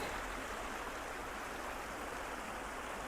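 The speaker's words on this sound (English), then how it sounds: "We come back to the creek." Steady broadband rush of a flowing creek in the Cradle Mountain area of Tasmania's bush, a continuous close, even wash of water with no talk over it.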